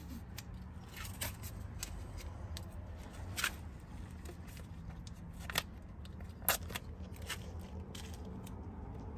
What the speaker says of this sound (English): Let me get my painter's tape ready to go.